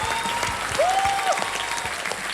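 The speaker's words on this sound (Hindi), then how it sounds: "तालियां बताओ" A studio audience at a Wheel of Fortune game show claps in a steady burst of applause across the whole stretch, with a faint whistle-like tone in the middle.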